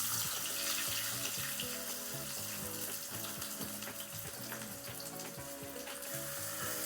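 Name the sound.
fish frying in a pan for Bengali paturi recipe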